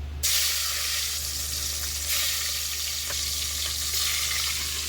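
Salted milkfish (bangus) hits hot oil with an abrupt start, then fries in a loud, dense, continuous sizzle with a few small pops, and no one speaks.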